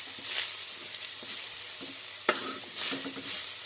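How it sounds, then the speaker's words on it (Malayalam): Carrot and curry leaves for Kerala-style carrot upma are stirred in a pan, with a few distinct scraping strokes and a sharp spoon knock over a soft sizzle. "ഇപ്പം ഞാനിതിലേക്ക് ക്യാരറ്റ് കറിവേപ്പില ഇതെല്ലാം ചേർത്ത് കൊടുത്തിട്ടുണ്ട് നമുക്ക് നന്നായിട്ടൊന്ന് ഇളക്കാം"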